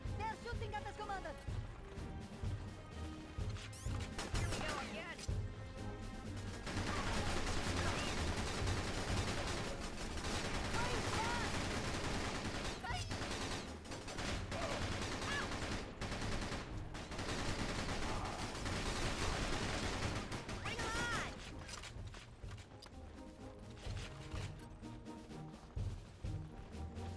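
Enemy troops open fire in the GameCube war game Battalion Wars, a dense sustained barrage of gunfire and explosive crashes layered over loud game music, with a voice speaking at times.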